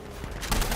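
Heavy suppressive machine gun fire in a tactical military video game, likely a .50 cal on a technical, opening as a dense burst of gunfire that grows louder and sustained midway through.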